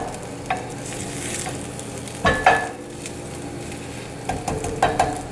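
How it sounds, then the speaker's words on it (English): Vegan burgers frying in a pan give a low steady sizzle, broken by a few brief clatters of utensils stirring or scraping, all close by with no talk. "oh, the burgers are already cooking"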